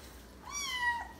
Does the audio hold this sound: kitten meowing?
yes